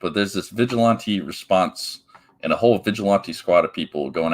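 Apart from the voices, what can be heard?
No everyday noise stands out behind the speech.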